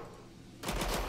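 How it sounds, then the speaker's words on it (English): A sudden burst of rapid gunfire erupts in Killing Floor 2 after a quiet moment, loud and rattling through the final half second. "Just start shooting it around."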